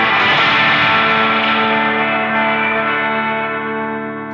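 A loud, distorted sustained chord washes out through a dense, splashy spring reverb tank tail that slowly decays over a few seconds.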